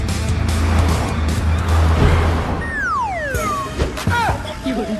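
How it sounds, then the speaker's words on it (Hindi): A car being driven, with engine roar and rushing road noise, then sharp tire squeals sweeping down in pitch as it skids, plus brief bumps and knocks near the end. "ये देखो, मैं बिना हाथ पकड़े गाड़ी चला रहा हूँ।"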